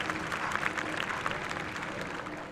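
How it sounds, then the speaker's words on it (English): A crowd applauds gymnasts at an annual school sports meet, a steady, moderately distant wash of clapping for the whole stretch. "Let's give a thunderous round of applause to our incredible gymnasts for their breathtaking performance"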